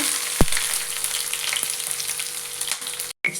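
Ginger and garlic frying in hot oil for pongal, giving a steady, close sizzle with a couple of sharp clicks of utensils against the pan, with no talk.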